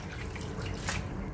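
Soaked black fungus is rinsed in boiled water and scooped out, giving a brief, quiet sound of close sloshing and dripping.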